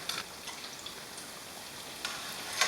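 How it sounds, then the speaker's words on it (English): Faint, steady sizzling of pork chops frying in a pan, with a soft crackle and a few sharper pops scattered throughout. "And you can hear that sizzle, you know it's perfect."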